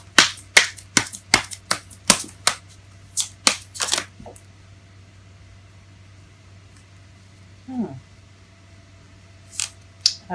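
Tarot cards being shuffled by hand, giving a quick run of crisp, sharp card snaps and slaps up close, then a quiet stretch with a few isolated clicks near the end.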